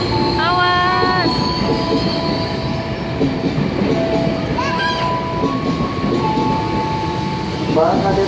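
Train horn at a busy railway station in Indonesia as trains arrive one after another, sounding in a few short tonal blasts over steady rumbling wheels and station noise, with voices faintly in the background.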